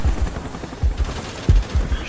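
Helicopter machine gun fire in the Call of Duty: Black Ops multiplayer game comes as several short, heavy bursts of rapid shots over busy game noise, loud and close.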